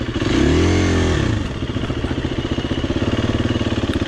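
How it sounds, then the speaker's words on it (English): A four-stroke dirt bike engine runs steadily while riding a beginner trail loop, with a loud rising rev early on that settles into a rapid, even chugging and rattling throughout, close and continuous. "if you're new to riding dirt bikes, we have a 4-stroke"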